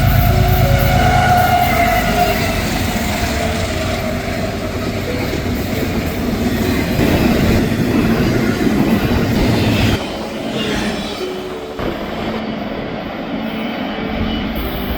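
A CSX freight train led by a reactivated Dash 8 locomotive, with CSX 7904 trailing second, rumbles loudly past at close range; the heavy roar drops noticeably partway through as the train continues by.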